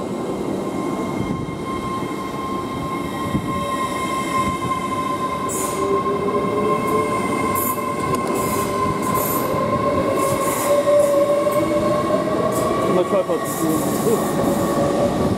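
TransPennine Express Class 802 train departing York station for Liverpool Lime Street, a loud steady rumble of wheels and traction with rising motor whine, faint wheel squeal and rhythmic clicks as it pulls away.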